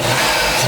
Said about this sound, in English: now I'm going to run the engine to see how it's going